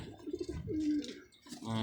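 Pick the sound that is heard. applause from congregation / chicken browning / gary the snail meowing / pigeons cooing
pigeons cooing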